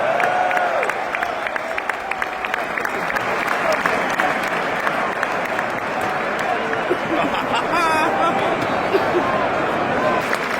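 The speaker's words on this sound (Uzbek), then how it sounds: "endi do'q o'tib ketyapti, qanday olqishlar bilan kuzatib qo'yishyapti." Stadium crowd at a Manchester City vs Arsenal match applauding a substituted player as he leaves the pitch, a sustained wall of clapping and crowd noise throughout, with a faint whistle-like sweep near the end.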